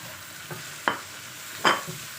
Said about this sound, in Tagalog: Gisa lang natin saglit.